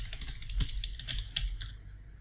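Keys clatter on a computer keyboard as an email address is entered at a Microsoft sign-in screen, a quick, close run of light taps with no voices.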